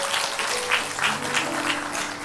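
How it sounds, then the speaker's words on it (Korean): A church congregation at a Sunday morning service claps together in a steady burst of applause, with a held tone and soft voices running beneath. "우리 박수로 환영하겠습니다."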